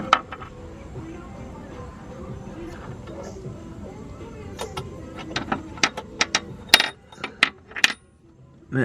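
A 16mm bolt dropping into a gap in the engine bay of a MK6 Golf R during cylinder head removal, a run of sharp metallic clinks and rattles as it tumbles down, close and bright after a low mechanical rumble.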